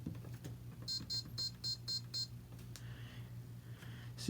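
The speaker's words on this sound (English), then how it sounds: "as any of you select more time and less time, makes beep noise" A rapid series of six short electronic beeps sounds from a Maytag MED5630HW dryer control panel over a low motor hum, followed by a couple of fainter tones.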